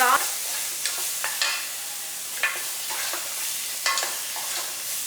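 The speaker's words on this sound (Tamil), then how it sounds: "இப்போ நல்லா வதக்கிடலாம்." Steady sizzling of spices sautéing in a hot pan for fish curry, with repeated scraping clicks of a spoon stirring at an irregular rhythm.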